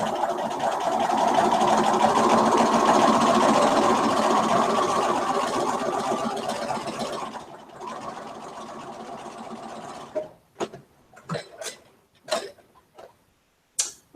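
A sewing machine stitching a Raggedy Ann doll dress at a 2.0 stitch length runs in a steady, fast mechanical whir, then stops, followed by a few scattered clicks and taps.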